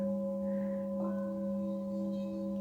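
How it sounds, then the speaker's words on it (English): Singing bowls ring with steady, resonant sustained tones, several pure pitches layered and humming continuously at a fairly strong level, with a soft new strike swelling in partway through. "Notice these resonant tones of these bowls."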